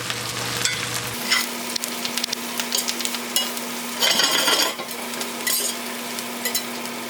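Leafy greens sizzle steadily in a hot pan while a utensil scrapes and stirs them in repeated close strokes, with a louder burst of frying partway through and no talking.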